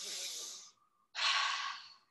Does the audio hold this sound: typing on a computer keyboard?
no